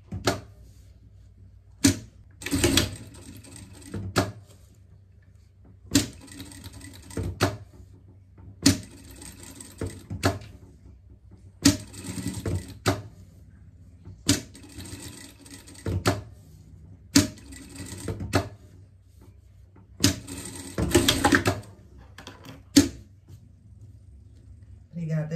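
A sewing machine stitches a seam in several short whirring runs separated by pauses, each run a quick mechanical rattle, while a person talks in the quiet stretches between them.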